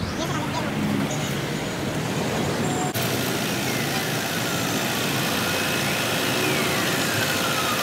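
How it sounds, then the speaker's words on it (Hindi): A Hyundai i20 Elite diesel engine idles during a major 85,000 km service, producing a steady, loud mechanical drone that holds evenly throughout, with a slight shift partway through and no revving. "15 मिनट के लिए आइडल RPM पे इंजन को स्टार्ट रखना है"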